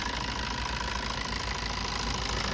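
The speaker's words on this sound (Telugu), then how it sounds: "ఇంజన్ సౌండ్ అనేది చెక్ చేసుకోవచ్చు సార్ ఇంజన్ వచ్చేసి స్మూత్ ఉంది" Close, steady idle of a 2013 Maruti Suzuki Swift VDi diesel engine with a constant knocking rumble and even vibration, running unchanged throughout.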